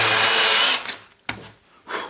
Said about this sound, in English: It drills a little hole into the wood so that you don't end up with that split that I got in the last one.